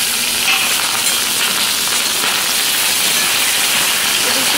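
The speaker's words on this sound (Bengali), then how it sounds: "দেখতে পাচ্ছেন আমি এখানে তেলে দুধ পটলগুলো ফ্রাই করে নিচ্ছি" Pointed gourd (potol) frying in hot oil gives a continuous, loud, close sizzle and hiss that stays steady throughout without pauses.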